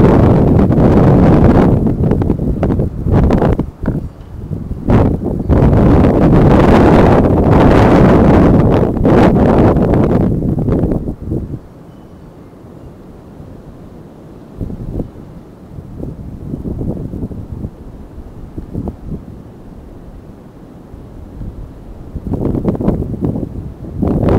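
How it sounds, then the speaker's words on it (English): Strong wind roars and buffets the microphone in heavy gusts for the first half, then drops to a lower rush before surging again. "very windy."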